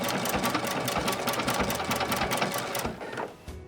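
A sewing machine runs steadily, stitching a double ribbon stitch with its rapid needle chatter for about three seconds, then slows and stops near the end.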